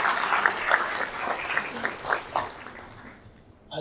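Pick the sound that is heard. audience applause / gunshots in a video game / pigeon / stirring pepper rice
audience applause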